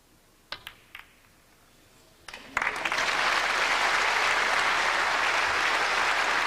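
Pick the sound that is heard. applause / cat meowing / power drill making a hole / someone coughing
applause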